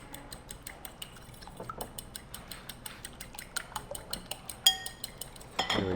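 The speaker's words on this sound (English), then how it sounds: "So we have 2 eggs in here, which I will mix up." Two eggs being whisked in a bowl, a fast run of light clinking taps of utensil against the bowl, close and fairly quiet, with a louder clunk near the end.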